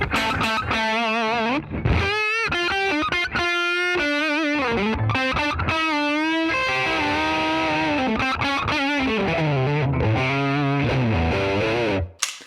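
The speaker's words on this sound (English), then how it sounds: "Just the Deluxe Reverb, and now RB1011 at around 11 o'clock." An electric guitar plays a sustained, harmonically rich overdriven phrase through a Guitar Slinger RB1011 MKII booster set around 11 o'clock into a Fender Deluxe Reverb amp, with bent and held notes filling the clip without any voice.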